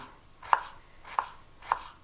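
Chef's knife chopping vegetables finely on a board, three crisp, evenly spaced cuts, close and clear with no voices.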